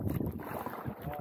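Strong wind gusting over Laurel Lake on a very windy day, a steady loud rush with buffeting against the microphone and possible lapping water underneath, no voices.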